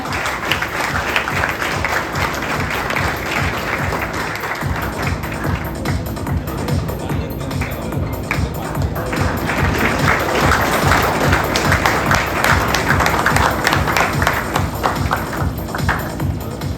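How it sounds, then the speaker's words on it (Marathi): Sustained applause from an audience at an award ceremony for a reel competition in Ratnagiri, dense and loud clapping that continues throughout and swells slightly toward the end. "जोरदार टाळ्या"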